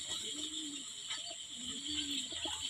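Pigeons coo softly near a rooftop trapdoor at dusk, two low drawn-out coos separated by a pause over a steady hiss of background noise.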